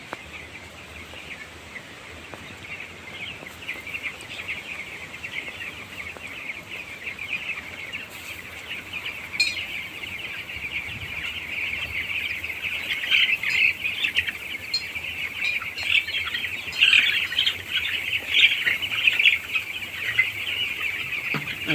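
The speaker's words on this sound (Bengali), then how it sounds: "এগুলো হচ্ছে 10 দিনের মুরগি" Ten-day-old chicks in a poultry shed chirping continuously, a dense chorus of thin high peeps that grows louder and busier toward the end.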